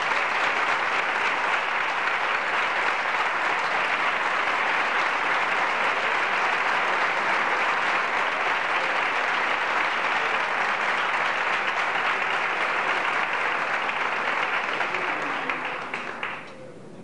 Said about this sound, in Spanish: Un aplauso para José Segundo.